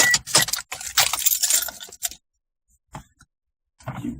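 Car keys jangling in the ignition as a 2004 vehicle is switched off, a bright burst of metallic clinking and rattling, then quiet with a few small taps and one more jingle near the end.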